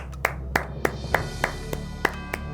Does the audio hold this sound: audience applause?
yes